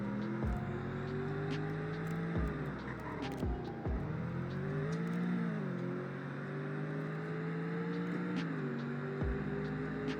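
A V8 car accelerates hard on a top speed run, its engine note rising steadily through several gear changes with brief dips between shifts, loud and close throughout.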